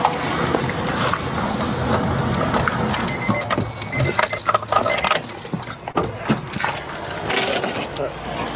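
Keys jangle while a car is switched off during a roadside traffic stop, a steady engine-and-cabin hum dropping amid clinking metal, with people talking over it.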